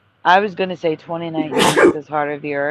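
A sharp sneeze bursts out in the middle of a man's close, continuous talk, brief and loud against his speech.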